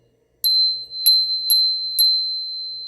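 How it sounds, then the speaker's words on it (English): A ROCKBROS hidden bicycle bell, its striker pulled back against a metal piece, rings four times in a row with loud, clear, close metallic dings that each hang on and ring out. "it hits this metal piece and it will give you a bell sound."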